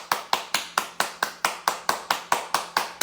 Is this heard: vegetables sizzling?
no